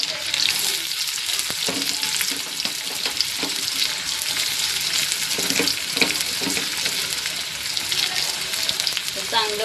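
Chopped onion and garlic sizzling steadily in a hot pan, a continuous loud frying hiss with scattered stirring clicks and scrapes throughout.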